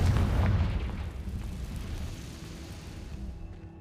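A Confringo blasting spell in Hogwarts Legacy erupts with a loud, deep boom at the start, its rumble slowly decaying into a low, lingering tail.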